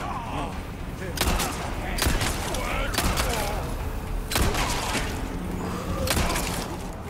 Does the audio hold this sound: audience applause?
no